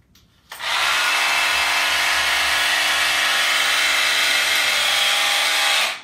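An electric split-end hair trimmer starts abruptly and runs steadily with a loud, high whir on a lock of hair for about five seconds, then cuts off.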